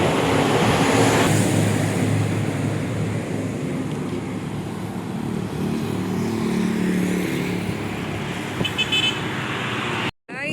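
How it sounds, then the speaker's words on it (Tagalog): Airplane taking off in the distance, a broad steady engine roar that slowly fades, with a faint horn-like toot near the end and no talking. "Lumipad na po yung eroplano."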